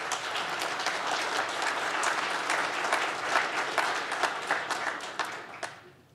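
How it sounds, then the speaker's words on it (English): A crowd at a public briefing on a Great Lakes Hyperloop feasibility study gives sustained applause, many hands clapping evenly before the sound thins and fades out at the end. "Let's give them a round of applause."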